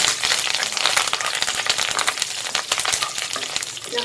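Stalks of dried curry leaves fry in hot oil in a pan, giving a loud, dense crackling sizzle with sharp spitting pops throughout.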